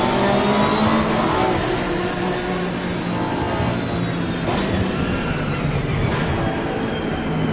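Race cars in Assetto Corsa Competizione roar together as the field launches from a race start, a dense, loud, continuous engine drone with a few brief whooshing peaks, no talk.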